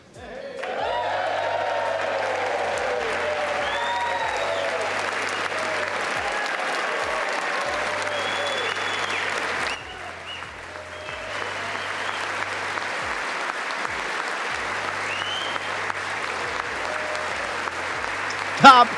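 Sustained applause from a large audience at a formal address to the United States Congress, steady and dense for about ten seconds, dipping briefly, then continuing at a slightly lower level until the end.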